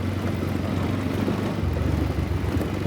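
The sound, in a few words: motorcycle riding on rough road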